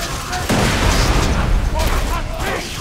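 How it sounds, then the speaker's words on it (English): A grenade blast in the video game Borderlands, a loud booming burst with crackling debris over continuous game noise and scattered gunfire, with voices talking over it. "that's my new grenade!"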